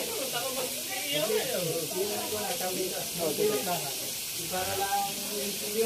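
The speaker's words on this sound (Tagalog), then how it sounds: "nagpiprito na kami ng fried chicken" Chicken pieces fry in hot oil with a steady bright sizzle and crackle that runs the whole time, while people talk over it.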